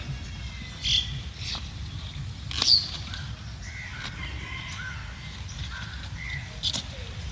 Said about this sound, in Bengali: শুনতে পাচ্ছেন আমাদের এখানে পাখির কিচির মিচির আওয়াজ এটা শুনতে কিন্তু খুবই ভালো লাগে